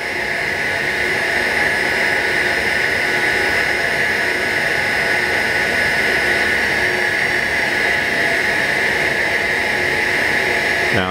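A Spectrolab SX-16 NightSun searchlight running on a battery pack gives off a loud, steady, jet-like roar with a strong tonal hum. It holds unbroken and close for the whole stretch, with no speech.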